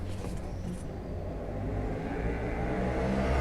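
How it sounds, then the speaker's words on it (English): A motorcycle engine revs and builds as it passes on a street, a low, steady growl that swells gradually louder toward the end. "that's not a car, that's a motorcycle, and it's not going boom, it's going vroom vroom"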